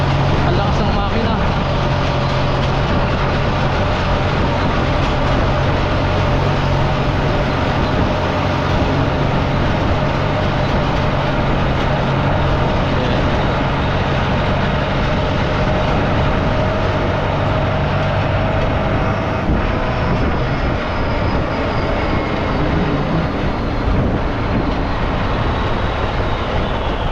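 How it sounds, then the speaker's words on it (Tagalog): A tractor engine roars loud and steady for the whole ride, a constant rumbling drone with wind and rattle, while passengers talk faintly beneath it. "Ang sayang sumakay sa traktor."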